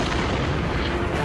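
Explosions in the video game Soldats inconnus, a dense, continuous roar of booming blasts and rumbling fire filling the whole moment, loud and close with no clear gaps.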